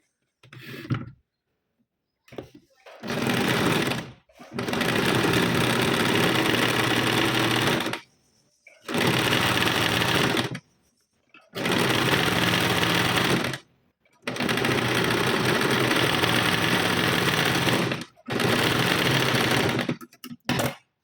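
A sewing machine stitches a folded strip onto a 38-size four-tuck blouse in repeated bursts of steady whirring, each lasting a few seconds and separated by short pauses, loud and close.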